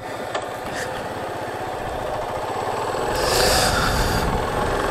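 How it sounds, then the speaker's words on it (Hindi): A motorcycle pulls away on a road near Hariharpada, its engine note steady and rising slightly near the end, with wind rush over the whole passage. "बाइक भागाएंगे अभी।"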